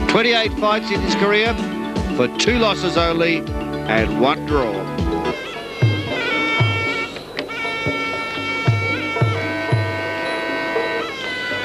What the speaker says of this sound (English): That sound you're hearing is the live orchestra playing the Muay